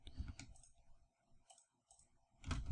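Computer keyboard and mouse clicks while modeling in Blender: a few sharp, close clicks in quick bursts, with quiet gaps between them and a louder cluster at the end.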